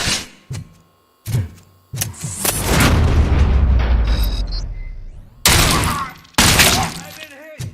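Gunfire in RoboCop: Rogue City, sharp booming shots in separate bursts with a long rumbling blast and debris in the middle, loud and close, with voices talking in between.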